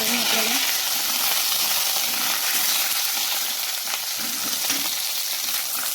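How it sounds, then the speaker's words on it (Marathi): Eggplants fry loudly in a pan as they are turned over, a dense continuous sizzle with soft scraping and stirring knocks, close and steady throughout. "पाच दहा मिनटं झाल्यानंतर आपल्याला ही वांगे उलटी करून द्यायची आहे"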